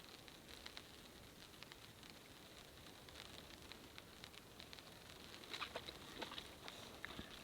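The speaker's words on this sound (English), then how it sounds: "can you hear the rain?" Steady soft hiss of rain falling through a pine forest, with scattered drips and light patters, fairly faint and continuous, no voices.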